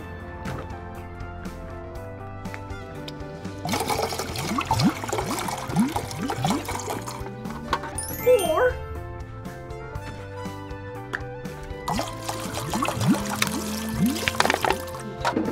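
Water poured into a container in a children's cartoon setting, trickling and splashing in bursts with quieter gaps between, set against cheerful background music, no voices.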